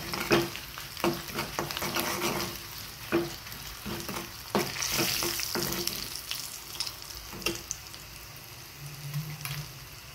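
A spoon scrapes and stirs curry leaves, chili, garlic and cumin frying in a pan, with irregular knocks over a soft continuous sizzle, close and moderately loud.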